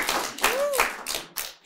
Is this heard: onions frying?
no